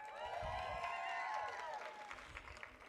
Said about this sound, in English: Graduates, please give your supporters another round of applause.